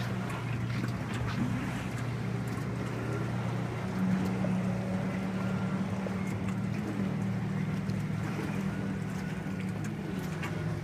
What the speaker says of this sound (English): What do you got, a remote control boat?